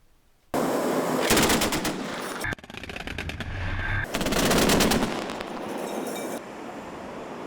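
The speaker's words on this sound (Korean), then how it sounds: "육군 20기계화 보병사단이 14일 대공화기 실탄 사격을 실시했습니다" An army mechanized infantry division fires anti-aircraft guns, including Biho air defense guns, in a live-fire drill, with loud sustained bursts of rapid automatic fire in several long volleys separated by short pauses.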